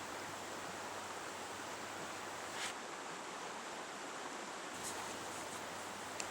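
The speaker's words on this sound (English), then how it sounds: "We head down to the stream." Moose Creek rushes through a Denali canyon in Alaska, giving a steady broadband roar of flowing water, close and continuous, with a couple of faint brushy rustles.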